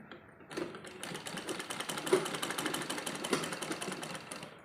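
Sewing machine stitching a baby dress (jhabla), a steady fast mechanical chatter of needle strokes that starts after a brief lead-in and runs continuously at moderate loudness, close up with no talking.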